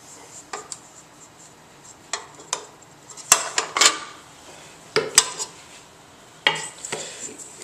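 Metal and plastic knocks and scrapes as pie dough is worked off a stand mixer's paddle attachment, with irregular sharp clinks and short rubbing strokes, fairly close and without talk.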